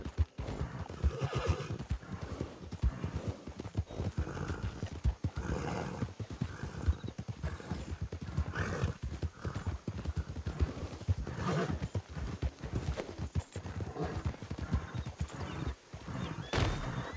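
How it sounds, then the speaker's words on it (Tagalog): A horse gallops fast with rapid, driving hoofbeats and occasional neighs and whinnies, a busy dramatized chase sound that stays steady and fairly close throughout, with no talking over it. "Mahabol, bilis ng kabayo niya."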